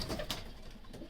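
Sialkoti pigeons on a rooftop give a brief, soft coo at close range over a low background hum.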